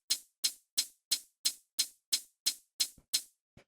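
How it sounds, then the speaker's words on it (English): A layered hi-hat, one synthesized and one sampled, for trip hop drums, ticks about ten times at a steady rhythm, each hit bright and crisp with a short decay. A couple of low thumps come near the end. "So the first sound that I have here is the hi-hat, which is 2 layers."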